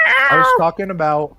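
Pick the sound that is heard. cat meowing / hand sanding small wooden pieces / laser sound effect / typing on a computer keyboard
cat meowing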